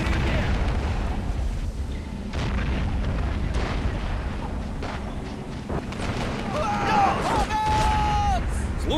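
Gunfire and explosions from a multiplayer war video game set in a village battle, steady dense rumbling blasts and bursts throughout with voices talking over the combat.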